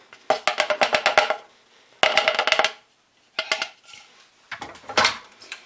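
Cake batter gets mixed in a bowl in several bursts of rapid clinking and scraping, utensil knocking against the bowl in quick rhythmic strokes, close and loud with short pauses between bursts.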